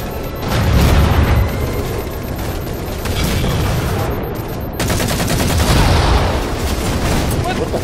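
Rapid bursts of gunfire in a Halo multiplayer match, loud and dense throughout with booming shots and a crackling rattle of automatic fire, mixed with game effects and voices talking.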